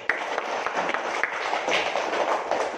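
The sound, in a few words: applause for group 1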